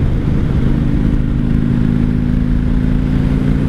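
A 1995 Honda Shadow VLX 600 (VT600CD) cruiser rumbles with a deep, loud, steady V-twin engine drone heard up close from the rider's position, with constant wind buffeting during a commute.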